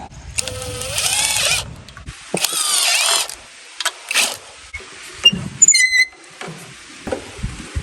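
A power drill driving screws into a 2x4 while fitting a stop on an old 1976 jon boat, with several close whirring bursts that rise in pitch, separated by short gaps, followed by scattered clicks and knocks.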